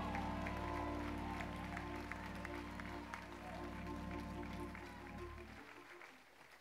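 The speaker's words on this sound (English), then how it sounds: "clap your hands unto the Lord" A church congregation claps hands during a sermon, a dense wash of applause with faint music underneath that gradually thins out and fades near the end.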